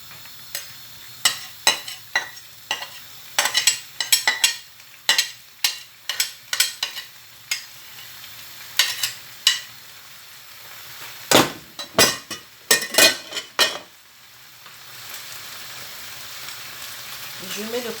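Garlic and onions go into a pan of roasting chicken, stirred and fried: repeated sharp utensil scrapes and knocks against the pan in bursts over a low sizzle, close, with brief talk.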